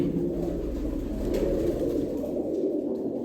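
Pigeons coo softly in a loft near eggs and nesting sets, a low steady murmur that continues for a few seconds without speech.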